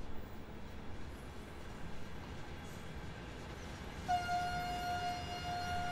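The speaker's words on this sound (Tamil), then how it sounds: "இப்போ தான் கேட்குது ஹாரன் சவுண்டு" A distant train horn sounds a long steady tone partway through, over a low rumbling background of rail noise.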